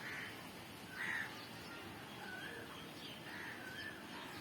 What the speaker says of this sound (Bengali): কি মিষ্টি মিষ্টি ডাকছে পাখিগুলো